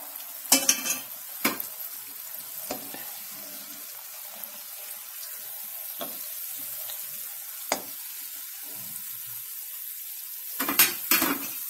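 Mawa jalebi frying in oil over a medium gas flame, with a steady low sizzle and scattered sharp clatters of utensils against the pan, without speech.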